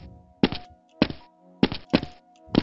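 Jump sounds in a bunny-hop game map, five sharp, hollow thunks at irregular intervals, close and clean with no talk.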